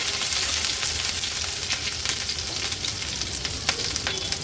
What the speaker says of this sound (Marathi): 2 चमचे आलं लसूण क्रश घेतला आहे तो फोडणीला घालूया. क्रश सोबतच या हिरव्या मिरच्या देखील मी फोडणीला घालते.